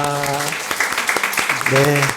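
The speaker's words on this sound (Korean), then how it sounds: "우리 이분들 모두 박수로 축복하겠습니다." A church congregation claps in blessing for the women's mission members standing at a worship service, a brief burst of applause with voices and sustained tones over it.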